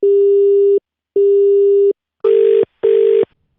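A phone busy signal: two long steady tones, then two shorter harsher beeps, evenly spaced with silent gaps, loud and close.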